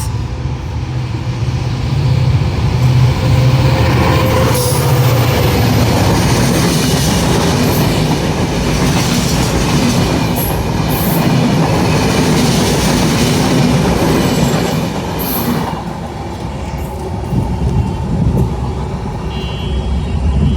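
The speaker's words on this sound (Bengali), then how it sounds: "দুরন্ত গতিতে এগিয়ে গেল চিলাহাটি অভিমুখী আন্তনগর চিলাহাটি এক্সপ্রেস ট্রেনটি" The intercity Chilahati Express thunders past at speed, a loud continuous rumble with rhythmic clattering of wheels over rail joints, sustained throughout.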